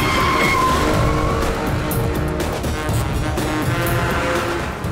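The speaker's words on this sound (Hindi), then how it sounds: "ये ये तो कंटेनर राइट में घुमा रहा है" A container truck swerving hard to the right, tires skidding in a loud, sustained screech over a continuous engine roar from start to finish.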